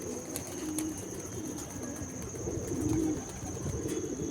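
Pigeons coo softly and repeatedly close by, low throaty rolling calls swelling and fading over a steady background hum and faint chirps, with no talk.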